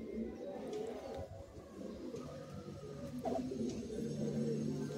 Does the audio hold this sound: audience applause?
no